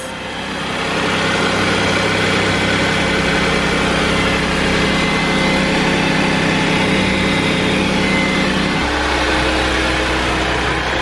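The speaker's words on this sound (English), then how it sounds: "you can definitely hear a little hiss" A supercharged Audi tow rig's engine idles steadily and close by, a smooth continuous drone with a faint airy hiss running over it and a slight shift in tone near the end. No voices are heard.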